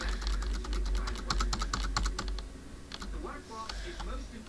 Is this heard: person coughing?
no